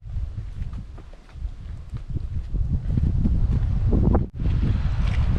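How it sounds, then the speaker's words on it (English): Gusty wind on a Boundary Waters lake buffets the microphone with low rumbling roars that swell and build, briefly dropping out before resuming. "She is a windy one today, but at least we had a tailwind"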